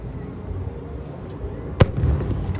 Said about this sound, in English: is Wonderland fireworks.